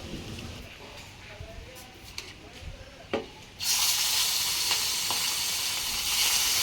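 Rohu fish pieces, rubbed with salt and colouring, fry in oil; a quieter stretch with clinks and a sharp clatter gives way to a sudden loud, steady sizzle that holds to the end.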